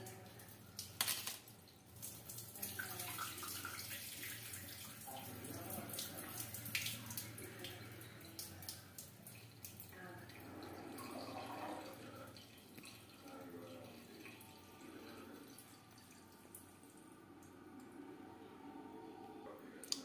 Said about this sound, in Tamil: இப்போ அந்த தண்ணியை நல்லா வடிச்சிடலாம்.